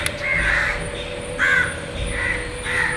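Crows caw outdoors, about four harsh, loud calls spaced roughly a second apart, close by, over a steady electrical hum.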